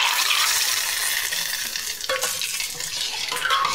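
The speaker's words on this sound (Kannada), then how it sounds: "ಒಗ್ಗರಣೆ ಹಾಕುವ ಇದಕ್ಕೆ ಒಂದು" Hot oil tempering poured into tambuli made from plant shoots, hissing in a loud, continuous sizzle close by, with a light clink of the pan partway through and no speech.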